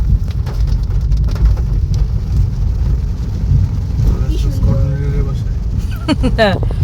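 Steady heavy rain pours throughout, a dense wash of noise with voices talking briefly near the end.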